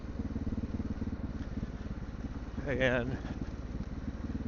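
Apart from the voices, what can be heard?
Honda XR650L motorcycle riding off-road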